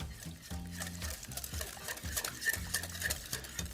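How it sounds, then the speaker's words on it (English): Beans being folded into a batter for baked bachelor beans, with soft wet stirring and scraping under a rhythmic background of music. "we're just gonna fold our beans in"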